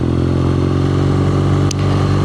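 A BMW R nineT Scrambler motorcycle engine runs in city traffic with a loud, steady, low throbbing hum and one brief click near the end.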